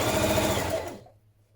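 A sewing machine stitches a seam with a 1.5 centimetre seam allowance on a knit dress. A fast, close, even mechanical whir runs for about a second, then winds down and stops, leaving a faint hum.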